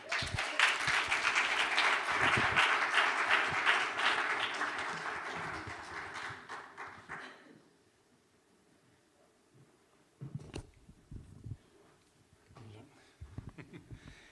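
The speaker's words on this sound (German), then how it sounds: "Ein Applaus bitte" An audience at a stage event claps for a volunteer man brought up on stage; the applause swells, holds for several seconds, then fades out, leaving near silence and scattered speech afterward.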